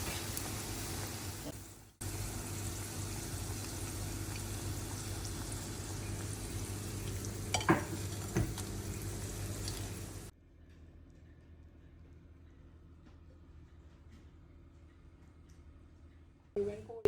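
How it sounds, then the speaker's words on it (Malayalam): Cauliflower fries in hot oil for gobi manchurian, a steady hiss and sizzle for about ten seconds, then a much quieter simmer as the frying settles, with a few clatters near the start. "കോളിഫ്ലവറും വറുത്തെടുത്ത് കഴിഞ്ഞു."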